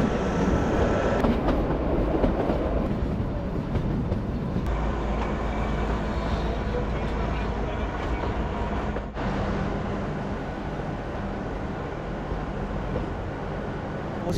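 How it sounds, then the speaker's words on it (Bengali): The Kalka–Shimla toy train rolls into Shimla station with a steady, loud rumble of wheels and carriages. A few clunks and shifts in the noise come through, and nobody speaks. "বন্ধুরা ফাইনালি আমরা সিমলা স্টেশন এন্টার করছি।"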